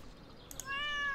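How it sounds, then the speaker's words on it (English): A cat in the farming game Stardew Valley gives a short, clear meow with a rising then falling pitch, heard alone after a quiet lead-in with no talking. "Is that my cat?"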